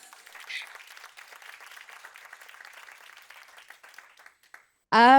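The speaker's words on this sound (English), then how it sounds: "So I think that deserves a round of applause." Steady audience applause, many hands clapping at a moderate level for several seconds, fading out before a sudden loud burst of sound at the end.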